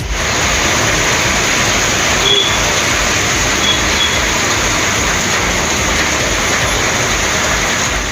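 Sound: heavy rain

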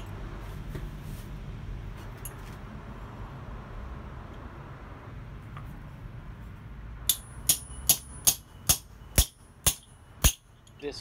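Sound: hammering a copper rivet while forging scissors

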